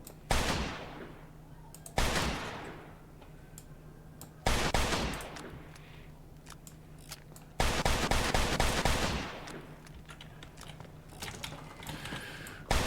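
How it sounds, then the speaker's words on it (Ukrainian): Bursts of rapid gunfire from the video game Mafia 2, several long volleys separated by short pauses, loud and close. "Стріляємо ось так повсюду."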